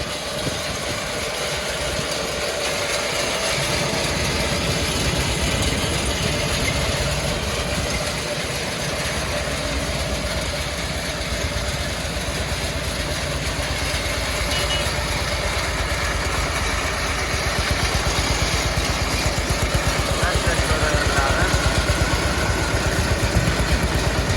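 A Zubr 1105 mini tractor's small diesel engine runs steadily throughout, a continuous rattling chug that grows slightly louder toward the end.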